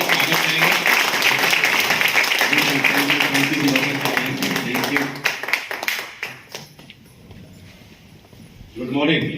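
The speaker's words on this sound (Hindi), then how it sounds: "एक बार पुनः जोरदार तालियां बजाएंगे, स्वागत करेंगे" An audience claps loudly in welcome, a dense burst of applause that fades out after about six seconds, followed by a brief voice.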